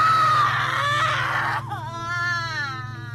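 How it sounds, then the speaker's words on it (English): A woman lets out a long, loud scream in the French slasher horror film High Tension, a sustained wail that breaks into higher, wavering cries, heard alone. "She then screams the scream of the victorious warrior."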